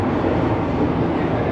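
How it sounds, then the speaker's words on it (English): A heritage train passes Homebush Station, producing a steady, dense rumble with broad rolling noise throughout, fairly close and continuous, with no voices. "one of the other heritage trains that past Homebush Station"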